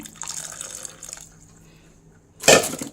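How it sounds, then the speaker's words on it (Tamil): Water is poured into a pot for rice flour dough in a home kitchen, a soft trickling splash at first, then a quiet pause before a louder, close gush of liquid near the end. "கொஞ்சம் தண்ணி இதில் ஊற்றிக்கலாம்"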